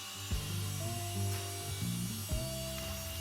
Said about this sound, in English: Then I continue on with the handheld belt sander and follow that up with my random orbital sander to get a nice flat face.